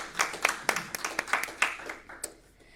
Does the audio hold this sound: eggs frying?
no